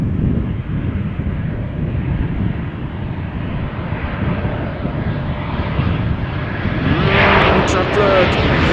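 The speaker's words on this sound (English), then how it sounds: "Embraer 190 is arriving back from Newcastle" A KLM Embraer 190 airliner arriving at Amsterdam Schiphol from Newcastle produces a steady, fairly loud jet rumble that grows and brightens over the last couple of seconds as it passes closer, with voices faintly beneath.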